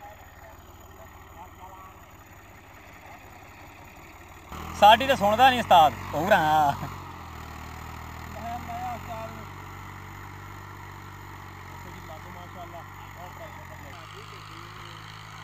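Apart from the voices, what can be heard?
Fiat 480 tractor engine running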